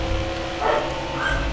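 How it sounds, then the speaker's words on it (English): A dog barks in the background, a short muffled burst over steady engine and crowd noise from the NASCAR Heat 4 racing game. "I'm sorry if you hear my dog barking."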